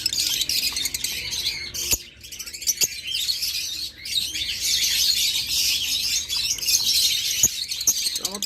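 A pair of opaline birds at a bird farm chirps and squawks nearby, with quick high tweets running almost continuously and a few sharp clicks.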